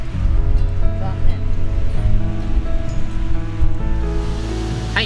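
Strong gusting wind and waves wash at a lakeside auto campsite on Mutsuyazaki beach, a loud, constant roar of wind buffeting and surf, close and unbroken throughout.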